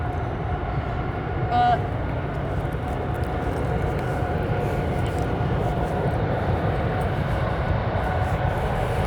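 A low, continuous rumble from an engine test at a nearby plant carries across a riverside walk along the Cedar River, steady and distant throughout with a brief faint tone early on.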